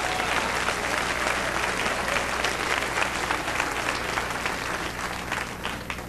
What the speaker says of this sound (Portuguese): Aplausos para o Deus da Bíblia.